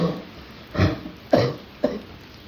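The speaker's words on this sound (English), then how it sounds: "I'm coughing like that." Three short, harsh coughs spaced about half a second apart, close to the listener, over a quiet background.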